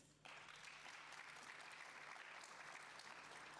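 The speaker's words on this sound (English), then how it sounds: "Round of applause, please, to our panelists." An audience at an e-learning summit claps for a panel, sustained dense applause that starts abruptly and holds steady at moderate loudness throughout.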